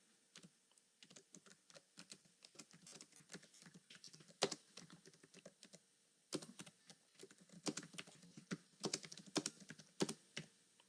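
Soft keystrokes on a computer keyboard come in irregular bursts and pauses as code is entered, close and quiet with no one talking.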